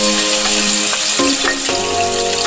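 Garlic ginger paste sizzles loudly in a hot pan, a dense continuous frying hiss with a few soft stirring scrapes.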